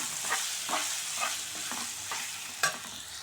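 Cut banana pieces fry in melted cane sugar in a pan, a steady soft sizzle broken by several light stirring scrapes at an even pace, close by with no talking.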